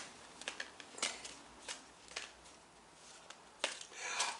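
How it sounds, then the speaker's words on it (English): Soft, quiet riffling and flicking of tarot cards being shuffled, in short irregular bursts with brief pauses between them. "I'm just shuffling the cards and seeing what happens"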